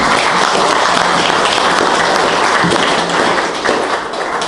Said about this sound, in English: So I'd like for you to give her a huge round of applause